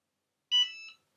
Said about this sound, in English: The beep and the green light in the Cricut button mean the desired temperature has been reached